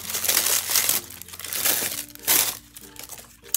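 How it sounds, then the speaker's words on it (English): Blind box packaging being unwrapped near the mic, with loud crinkling and crumpling in several bursts and short pauses between them. "But then unwrapping."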